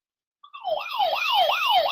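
A police car siren starts abruptly after a short silence and wails in fast, close, loud rising-and-falling sweeps until the end, with no voices.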